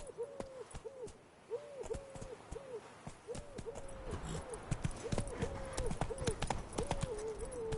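Video game horse Roach galloping, a steady run of hoof clip-clops that grows louder and busier toward the end, mixed with repeated hooting tones and no spoken words.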